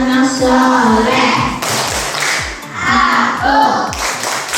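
Children clap their hands in a steady rhythm during a classroom clapping chant, the regular thumping claps running throughout alongside the group singing and talking.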